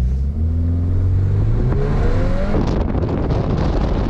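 A VW Golf R Variant at full throttle in manual mode on a racetrack, its engine revving loud and close with rising pitch before shifting into a rough, sustained roar as the car drifts.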